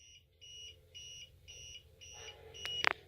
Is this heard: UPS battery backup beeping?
yes